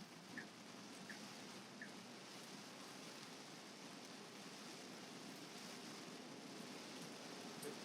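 Steady rain patters on the sloped windshield of a Tesla Cybertruck while driving, a soft, even hiss that stays faint and constant throughout with no voices.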